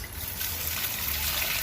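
Water from a goldfish tank poured onto plants, a continuous hissing, splashing stream that stays steady and fairly loud throughout.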